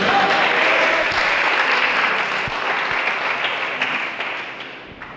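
A large church congregation claps loudly and steadily, a dense wash of applause that slowly fades toward the end.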